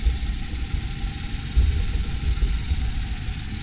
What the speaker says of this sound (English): it's running nice and smooth. There's no roughness.